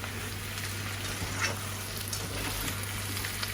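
Zucchini stir-frying in a pan of sautéed vegetables, a steady soft sizzle with faint stirring scrapes throughout, low and even.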